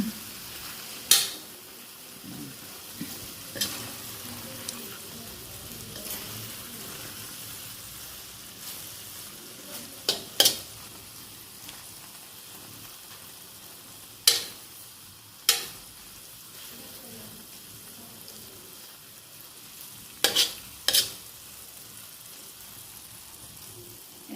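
Laing, taro leaves simmering in coconut milk, bubbles steadily in a pan with a soft continuous sizzle, broken by a handful of sharp scraping clinks from a utensil stirring against the pan.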